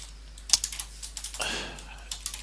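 Keys clatter on a computer keyboard as code is typed, with a short run of close, crisp keystrokes in an uneven rhythm over a low steady hum.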